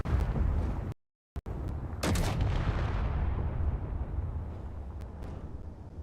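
Gunfire in the space-combat game Space Engineers: dense bursts of shots and booming impacts, broken by a sudden dropout of sound, then a sharp crack and more rumbling fire that gradually thins.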